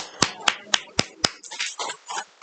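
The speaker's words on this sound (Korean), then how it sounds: "웃지는 않고 박수" Five sharp, evenly spaced claps from a church congregation during a Wednesday worship service, each a crisp hand strike about a quarter second apart, followed by a looser patter of scattered hand sounds mixed with faint murmuring.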